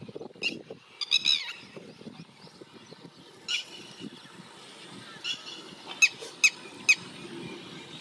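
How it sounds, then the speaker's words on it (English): A red-wattled lapwing gives sharp, short calls in an open setting. The calls are faint and distant at first, then come as a few crisper, louder notes near the end over quiet background noise. "The red-wattled lapwing call is quite distinct, loud, echoing, and alert"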